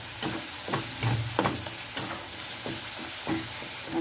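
Egg bhurji base of finely chopped tomato and onion being sautéed and stirred in a pan, with a steady close sizzle and repeated scraping stir strokes about every half second, no voices.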